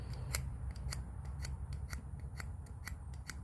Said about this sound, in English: So we'll just give that a scrape.